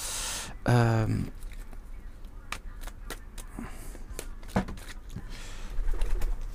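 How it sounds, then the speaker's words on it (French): Wood pigeon cooing in a short rhythmic phrase, fairly close and clear outdoors, followed by scattered clicks and knocks. "Oh, j'ai encore des pigeons. Ramier."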